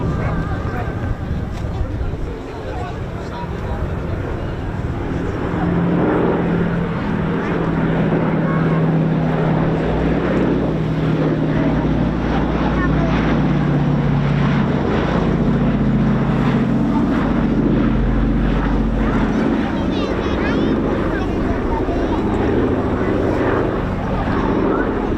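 Four-engined B-17 heavy bomber running its engines at an airshow: a loud, steady, deep droning roar that fills the whole stretch, with wind buffeting the microphone.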